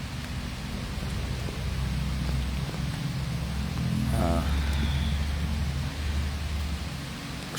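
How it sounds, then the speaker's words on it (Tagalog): Heavy rain of big drops pours steadily in a broad, even wash that stays close and constant, with a brief bright splash or drip standing out near the middle. "Dagko po ni patak ulanan na sobraan po ni ulanan."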